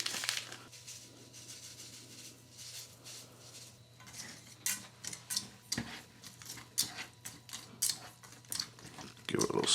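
Raisins and sugar being stirred in a small cooking pot from a Latvian field ration, with light scraping and clinking of a utensil against metal, intermittent and close, after some quiet handling noise.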